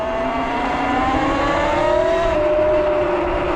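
A Talaria MX5 electric dirt bike rides a trail, giving a steady, loud whining motor tone that rises slightly in pitch over broad wind and tire rush, with no voices.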